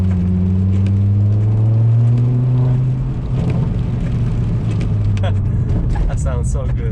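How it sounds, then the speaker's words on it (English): A tuned Volvo S60R with a stage 2 tune and new injectors accelerates hard, its exhaust droning loudly up close, then the throttle lifts and a scatter of sharp crackles and pops follows while a person talks over it. "I'm just gonna accelerate and let off the throttle so you guys can hear the pops"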